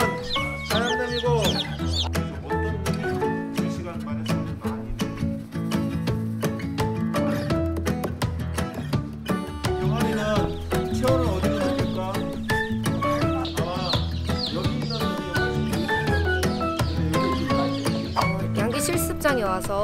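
A large crowd of chicks peeps in rapid, high chirps at a university livestock practice session, heard under loud background music with some talking mixed in.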